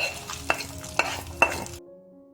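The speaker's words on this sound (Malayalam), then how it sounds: "കളർ മാറുമ്പോൾ 4 ഉണക്കമുളകും കുറച്ച് കറിവേപ്പിലയും ചേർത്ത് വഴറ്റി കൂട്ടുകറിയിൽ ചേർത്ത് മിക്സ്" Fried coconut pieces, dried chillies and curry leaves stirred into Kerala sadya kootu curry: three sharp spoon clacks against the pot over a soft frying sizzle, close up, ending abruptly in silence.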